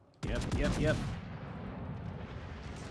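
Heavy naval guns fired by AI gunners in World of Warships: Legends, a sudden loud booming salvo with ragged cracks that decays into a long rumbling tail.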